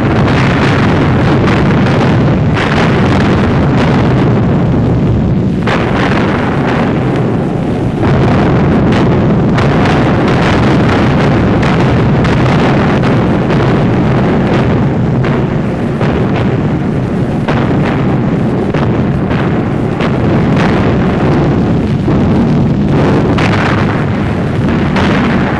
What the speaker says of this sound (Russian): Началась генеральная атака! Грозный бог войны, артиллерия!